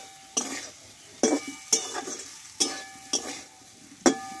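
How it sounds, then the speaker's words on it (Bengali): Ground spices being stirred with a splash of water in a pan, a soft simmering sizzle broken by six sharp spatula knocks and scrapes against the metal, spaced irregularly and heard close. "দেখো মশলার সঙ্গে ভালোভাবে কষিয়ে নিয়েছি আমি।"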